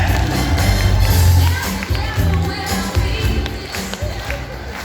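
An audience at a Kazakh event bursts into applause and cheering, a loud crowd clap that peaks early and then thins, while a host's voice carries over it.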